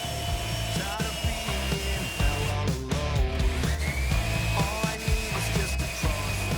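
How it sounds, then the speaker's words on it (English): A power drill bores through a guitar body during a guitar build, its motor whining steadily with shifting pitch and rough grinding bursts as the bit works through the wood. "Next, I'm going to drill through the body."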